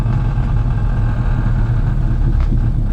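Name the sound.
car engine revving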